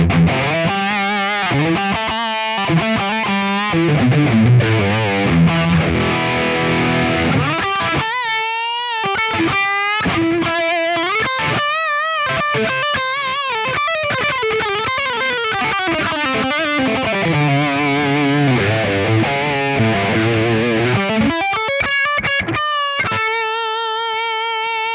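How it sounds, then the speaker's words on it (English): An electric guitar runs through the Das Benzin Mega amp model on a Line 6 POD Go, with a ribbon-mic cab sim giving a loud, saturated high-gain metal tone of chugging riffs, sustained chords and sliding lead lines. "the basic raw amp tone with the particular cab and mic selection I had sounds like this"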